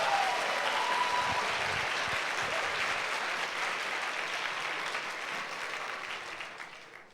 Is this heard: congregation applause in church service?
yes